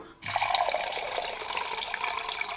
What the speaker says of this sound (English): The first ingredient I'm going to add is water. We have cold water.